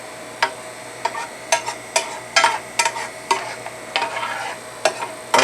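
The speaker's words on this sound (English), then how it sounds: "if you stir that around, all that burnt stuff will come off the skillet" Caramelized onions scraped and stirred around a skillet to lift the browned bits, giving repeated sharp utensil scrapes and clacks at an irregular rhythm over a faint sizzle, close and fairly loud, with no talking.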